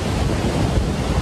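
Ocean waves wash steadily onto a beach in Phuket, Thailand, a continuous broadband surf roar with some wind buffeting the microphone, filling the whole stretch without a break.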